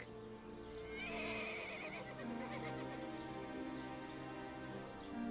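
A horse gives a loud, drawn-out whinny close by, the cry rising and then trailing off, while hooves clip-clop in an irregular rhythm underneath, with no talk over it.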